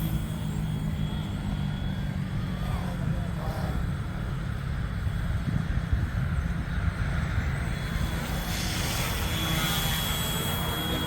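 A Yuxiang F07 RC helicopter drones steadily through a test flight ahead of landing, its continuous motor and rotor whine staying close and even throughout, with a broad rumble underneath and no break or pause.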